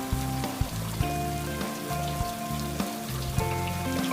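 Rain patters steadily on grass in a village during heavy monsoon rain, a dense, even spatter of drops continuing throughout without voices.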